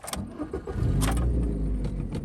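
A VAZ 2110 car engine cranks briefly with a starter whir, then catches and settles into a steady rough idle, close and loud.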